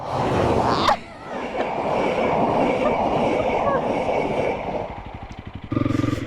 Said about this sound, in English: my train's actually coming